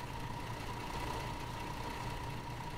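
A bus engine idles steadily in the Tourist Bus Simulator video game, a constant low rumble with a faint hum that holds at an even level throughout, with no talking.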